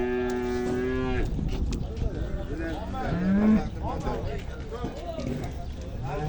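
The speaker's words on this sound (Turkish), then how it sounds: "Burada ne inekler getirmişler?" Cattle moo loudly at a livestock market in Ceyhan, one long low call early and another shorter one midway, over busy crowd chatter and people talking close by.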